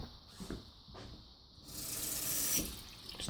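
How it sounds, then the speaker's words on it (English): Water runs from a faucet into a kitchen sink in an old family home, a rushing flow that swells after a couple of seconds and carries on, close and alone. "Still running water."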